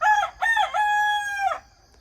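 A single close, loud rooster crow, broken at first and then a long sustained note that trails off, with silence after.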